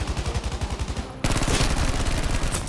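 Rapid automatic gunfire in a shooting video game, a fast regular stream of loud close shots that briefly thins then surges into a denser, heavier burst.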